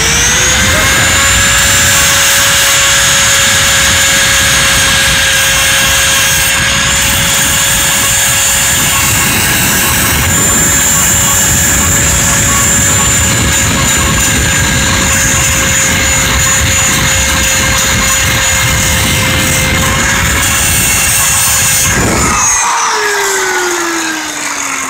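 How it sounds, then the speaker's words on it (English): Grinding wheel cleaning rust from Silverado brake hardware, a loud continuous high whine held close for over twenty seconds before it winds down at the end. "you gotta pull out the hardware, and basically get yourself a grinding wheel."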